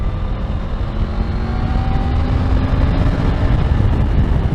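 A 2024 Triumph Tiger 900 Rally Pro motorcycle engine pulls hard under acceleration. Its loud, continuous drone rises gradually in pitch, with heavy wind rush over it.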